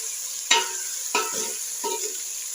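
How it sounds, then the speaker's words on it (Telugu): Ingredients frying for a village-style fish curry, three sharp stirring scrapes against the pan over a light continuous sizzle, close and without speech. "ఇవైతే కొంచెం ఫ్రై అయ్యాయి కదా"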